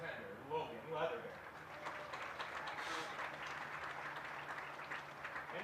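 Crowd applause at a boys lacrosse game, a steady spread of clapping from a distant audience that swells after a brief opening voice and carries on evenly.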